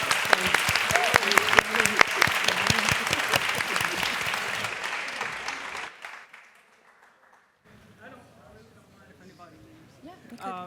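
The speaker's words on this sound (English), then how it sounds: "Let's give up a round of applause." Audience applause at a panel event, a dense burst of clapping that rings out for several seconds and fades away, followed by faint room sounds and a voice starting to talk.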